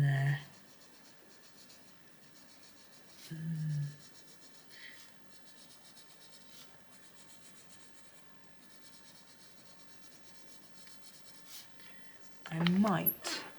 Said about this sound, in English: just kissing the paper with the pencil lightly, just to give a few hints of pink